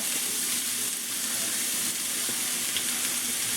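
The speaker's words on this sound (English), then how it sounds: "I am gonna add 1 pat of this butter now, and a little olive oil." Butter and olive oil sizzle steadily in a hot pan for chicken Marsala, a close, continuous frying crackle with faint stirring and no talk.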